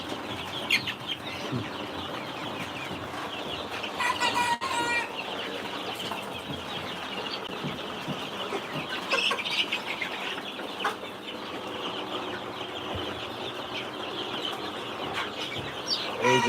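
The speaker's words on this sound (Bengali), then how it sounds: "এগুলো হচ্ছে অরিজিনাল টাইগার মুরগি বাচ্চা" Two-month-old tiger breed chicks cluck and chatter continuously at close range, with occasional wing flaps amid a busy coop.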